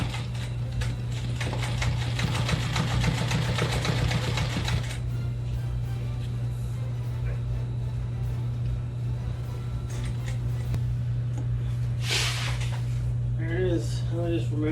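A sewing machine stitches an anchor sail, a rapid mechanical rattle for several seconds followed by a steady hum, with a person talking over the work.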